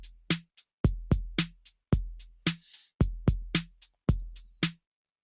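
Simple programmed drum beat with steady kick, snare and hi-hat hits in a regular repeating pattern, clean and close with no voices.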